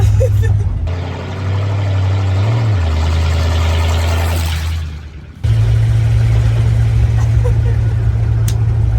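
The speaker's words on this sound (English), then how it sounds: "It's like we got a running, driving truck here." A 1986 Dodge Ramcharger engine with a big cam idles with a deep, steady rumble, dips briefly, then roars back up and keeps running loud and close.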